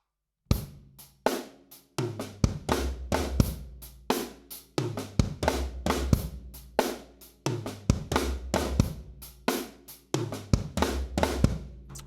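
A drum kit plays a linear shuffle fill, crisp alternating hits spread across drums and cymbals in a steady, bouncing pattern that repeats for about twelve seconds, close and clear with no talking.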